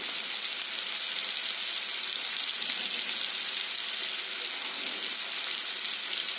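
Bitter gourd pieces fry in a pan with a bright, continuous sizzle, close and steady, with no voices over it.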